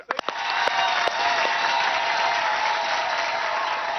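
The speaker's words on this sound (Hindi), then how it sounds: "ताली मारो।" Studio audience of a TV comedy show breaks into applause, a few sharp claps at first swelling quickly into steady, even clapping that holds to the end.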